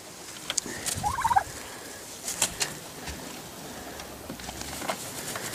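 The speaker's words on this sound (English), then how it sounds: "Just letting the turkeys out for the morning." Turkeys, 44 weeks old, being let out for the morning on a farm: a burst of gobbling and clucking calls around one second in, then scattered fainter calls and outdoor background.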